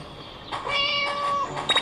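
A cat meows repeatedly in a video game, its drawn-out tonal cries rising and falling over a steady game-music bed, fairly close and clear with no talk over it.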